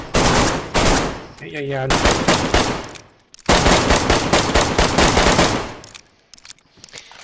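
Rapid automatic bursts from an M4 rifle in the video game DayZ, loud and close, two long sustained strings of shots separated by a brief pause, trailing off into scattered rounds, with a short spoken word between bursts.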